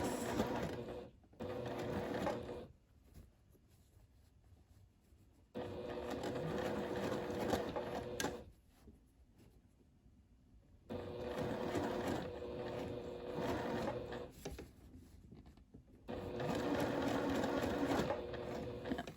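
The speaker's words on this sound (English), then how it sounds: "So just slowly making sure I catch every point, sew it in place." A sewing machine stitches ric rac trim onto fabric, whirring steadily in several long runs with short quiet pauses between them while the fabric is repositioned. The sound is clear and close.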